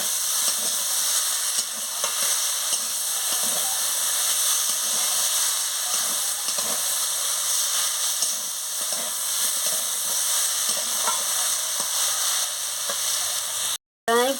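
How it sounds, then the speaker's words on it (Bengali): Chingri shaak greens stir-fried with vegetables in a pan, a steady close sizzle and hiss with scraping stirs throughout, briefly cutting out near the end. "চিংড়ি শাক দিয়ে আমি আনাজের সঙ্গে দেখুন ভালো করে চিংড়ি শাকটাকে কষিয়ে নিচ্ছি"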